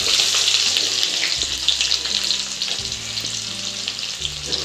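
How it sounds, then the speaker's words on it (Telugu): Cumin seeds, sliced onions and curry leaves fry in hot oil with a dense, steady sizzle that stays loud throughout, a low hum running beneath the crackle. "ఇవైతే వేగనివ్వండి ఫ్రై అయినాయి"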